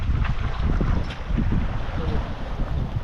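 Steady gusting wind roars across the microphone aboard a sailboat at sea near Anglesey, a continuous broad rush with slight swells in strength.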